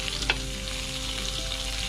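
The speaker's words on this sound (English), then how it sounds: "It's sizzling away nicely just on the coals." Steady sizzling and crackling of steaks searing on a charcoal grill over hot coals, continuous and close, with a brief louder pop early on.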